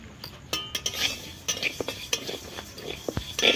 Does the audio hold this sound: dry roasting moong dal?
yes